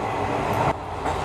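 Kolkata to NJP passenger train running, a loud continuous interior rumble and rattle of the carriage with a brief dip in noise partway, no one speaking.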